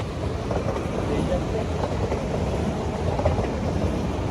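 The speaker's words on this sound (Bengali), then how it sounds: "ট্রেন যাচ্ছে" A train passes nearby in a steady, loud rumble of rail noise that holds for several seconds, with no clear speech over it.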